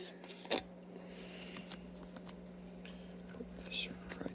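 Material is trimmed during restoration of a vintage 1967/70 Gibson SG guitar: a few quiet, sharp snipping cuts spaced apart over a low electrical hum, with faint murmured speech nearby.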